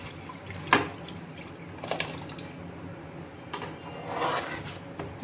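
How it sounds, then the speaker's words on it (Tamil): Rice flour batter pours into a pot of cooked sweetened milk rice balls, giving a soft liquid splash and trickle with a few brief drips, fairly faint against a quiet kitchen background. "இந்த மாவை இதில் ஊற்றிக்கலாம்."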